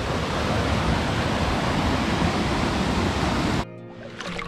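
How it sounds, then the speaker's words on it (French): A loud, steady rush of falling water from a waterfall near Lac de Vouglans, France, roars close by for several seconds, then cuts off abruptly. "première d'une série de cascades"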